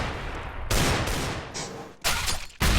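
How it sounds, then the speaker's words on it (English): Grenade blasts and gunfire in a Counter-Strike match on the Cache map: loud, close bursts of explosive noise, with several heavy hits in under three seconds and no speech. "Grenade nearly goes down his trousers and explodes."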